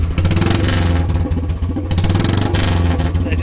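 A BS4 Royal Enfield Bullet 350 with a free-flow L-bend exhaust pipe revs up close and loud, its engine giving a continuous, dense, thumping roar with rapid pulsing beats throughout.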